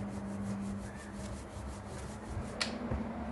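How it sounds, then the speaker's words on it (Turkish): A small rolling pin rolls out floured dough, a soft continuous rubbing and rolling sound with a faint rhythmic pulse and one brief tap, close and quiet. "Merdane ile ince bir şekilde açıyorum."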